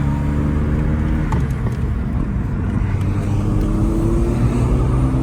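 Steady, loud engine and road noise from inside a moving car, a continuous low rumble with an even drone and no talk over it.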